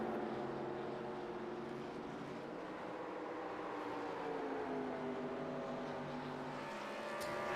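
Race cars circle a road-course track, including an '87 Holden HJ-era entry, their engines a continuous droning roar that rises and falls as they pass at a distance, with no talk over it.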